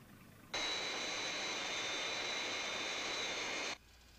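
Fireflash airliner jet engines on landing approach in a Thunderbirds episode: a steady, loud roaring whoosh with a thin high whine that starts abruptly, holds for about three seconds and cuts off sharply, with no voices.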